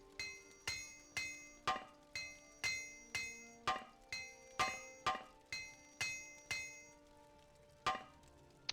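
Repeated metallic hammer strikes from a repair hammer working on armor in the video game Morrowind, about fourteen sharp ringing clangs at a steady, slightly uneven rhythm, close and clear with no talking.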